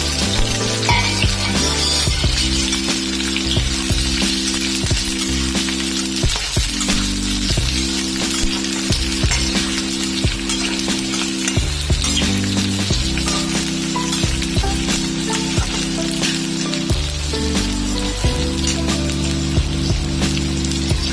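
Garlic sizzles steadily in hot oil at the start of a pizza topping sauce, with onion to follow; a continuous bright frying hiss runs the whole time beneath a steady low tonal hum.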